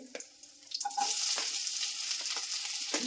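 Onion, ginger, green chilli and garlic tipped into hot butter in a pan for a mixed vegetable curry, a soft clatter giving way to a steady, close frying sizzle that holds to the end, with no talking.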